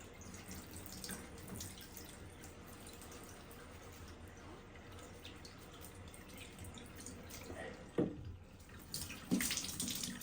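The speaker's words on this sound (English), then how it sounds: "we're going to keep doing this until the water from the filter runs clear" Water from a tap runs steadily through a rinsed Shark cordless vacuum filter at a sink, a quiet continuous splashing with a few louder gurgles and drips near the end.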